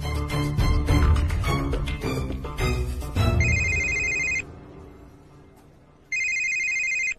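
A phone rings with two bursts of a bright electronic ringtone, arriving after a stretch of loud indoor conversation and music in a tea-stall setting.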